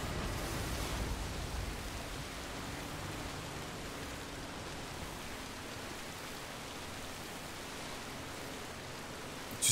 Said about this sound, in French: Bon, la pluie, elle s'arrête pas.